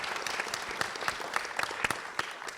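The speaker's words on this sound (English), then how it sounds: "I think he deserves a round of applause" Light, scattered clapping from a small audience at a film discussion, with individual claps distinct and fairly faint over a short stretch.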